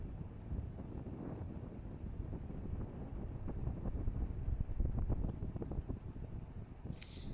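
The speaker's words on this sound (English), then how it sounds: "brisk wind between around 9 or 10 miles per hour" Brisk wind of about 9 to 10 miles per hour blowing steadily past the microphone at a desert campsite, a continuous low rumbling rush that swells slightly midway, with no talking.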